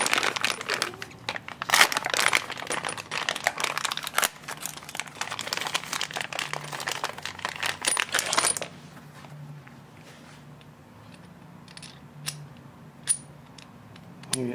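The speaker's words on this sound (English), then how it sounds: "I'm going to go ahead and take them out of the packaging." Bike spools for a T-Rex stand are pulled from plastic packaging, with close crinkling, crackling and sharp clicks for about eight seconds, then quieter scattered ticks and handling sounds.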